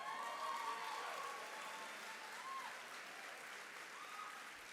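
Graduation audience applauding at a university spring commencement ceremony, a steady wash of clapping from a large crowd with faint whistles or cheers, fairly distant and even throughout.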